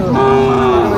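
A single loud, close cow moo at a cattle market, drawn out and steady for about a second.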